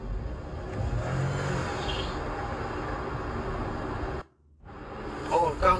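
A Fiat Pulse with an automatic transmission that slips while being floored gives off a steady mechanical drone and whine with a belt-like noise, cutting out briefly near the end before resuming.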